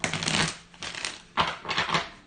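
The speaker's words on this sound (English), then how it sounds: "while I shuffle my deck" A deck of cards being shuffled, with several bursts of riffling and crackling in uneven rhythm, close and moderately loud, with no voices.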